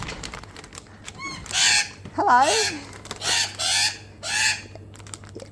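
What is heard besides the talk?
backyard chickens clucking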